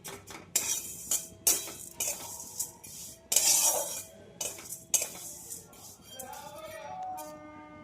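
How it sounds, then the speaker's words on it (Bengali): Flattened rice (chira) stirred and dry-fried in a wok, giving repeated close scraping and clinking strikes of a utensil against the pan at an uneven rhythm, with a faint soft sizzle between strokes. "চিড়াটা ভেজে নিতে হবে।"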